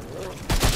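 Gunfire in the soulslike shooter game Remnant 2 while exploring a dark canal, a sudden loud burst of shots or a blast kicking in midway after quieter game ambience, with talk heard around it.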